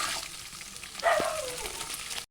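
Spice paste sizzling gently in a little water in a pan for dried fish and pumpkin leaf fritters, a soft steady hiss with a brief tonal squeak midway, then a sudden cutoff.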